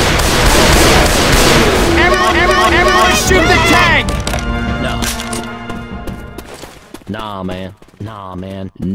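Rapid gunfire bursts from weapons in the video game Left 4 Dead 2 crackle over frantic shouted talk from players, loud and close, then fade as voices take over near the end.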